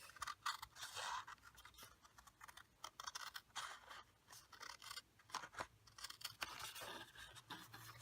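Scissors snip through cardstock paper in a quick run of crisp, close cuts, irregular in rhythm with brief pauses, quiet and alone without talk.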